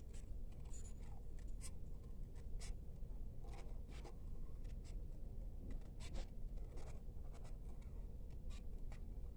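Repeated crisp snips of scissors fussy cutting paper for card making, short irregular bursts over a low steady background, close by.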